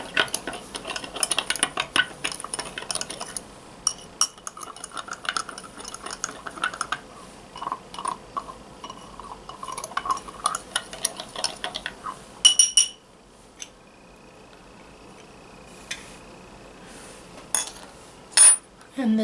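A cube clinks against glass as a mixed drink is stirred, a run of quick, close metallic and glassy ticks and taps, joined by a few sharper clinks further on.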